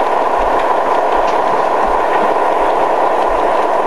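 A model railroad Pacific steam locomotive with an onboard sound system rumbles steadily past, a continuous chuffing and clattering roar with a soft rhythmic low thump, fairly close and with no talk.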